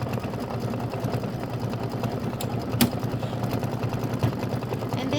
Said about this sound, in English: go ahead and hit start. It's going to do the outline stitches.